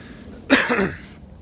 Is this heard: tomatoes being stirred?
no